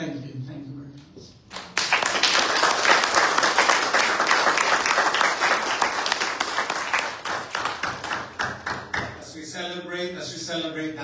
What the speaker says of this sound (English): let's give God the biggest clap offering that we can give.